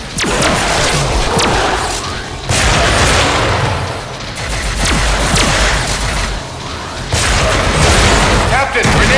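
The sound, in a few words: grenade explosion in the Star Trek video game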